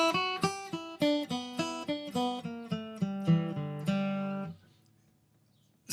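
A bluegrass lick in G picked on a string instrument, a quick run of about a dozen bright plucked notes climbing then settling on a ringing held note, close and clean, ending in silence.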